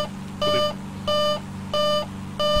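Cockpit warning tones in a flight simulator on a high approach into Van Nuys. Four evenly spaced, loud beeps sound over a steady low engine hum, with no talking.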